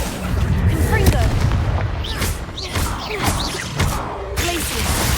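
Spell blasts from the Hogwarts Legacy video game, including the Confringo fire spell, burst out in several loud booming impacts with crackling and whooshing tails, close and overlapping across the clip.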